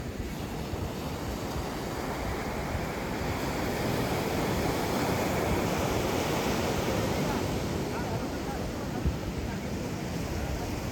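Sea waves washing onto a beach at night, a continuous loud broadband roar of surf mixed with wind rumble on the microphone, steady with no distinct breaks.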